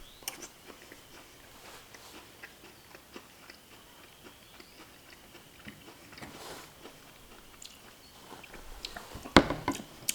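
Faint, close chewing of canned corn kernels, soft rhythmic bites and crunches repeating through the quiet, ending with a few sharper clicks near the end.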